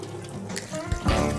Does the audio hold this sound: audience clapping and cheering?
no